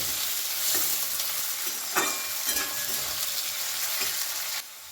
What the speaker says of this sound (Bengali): কয়েক সেকেন্ড আলুটা একটু ভেজে নিয়েছি